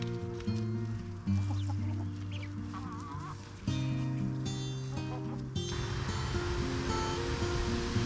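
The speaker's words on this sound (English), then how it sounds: "All the chickens gather around" Chickens clucking and calling around a coop as the flock gathers near new baby chicks, a rooster-like crow among overlapping clucks, steady and fairly close with no talk.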